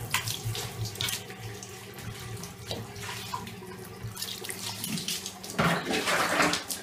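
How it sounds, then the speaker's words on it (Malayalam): Water pours steadily over a cat to rinse shampoo from its fur during a bath at home, a continuous splashing flow at moderate level with no talking. "ആ ഷാംപൂ ദേഹത്തിൽ നിന്ന് പോകുന്നവരെ നന്നായിട്ട് അറ്റ്ലീസ്റ്റ് ഒരു 2-3 മിനിറ്റ്സ് എങ്കിലും നല്ലപോലെ അവിടെ വെള്ളം ഒഴിച്ചിട്ട്"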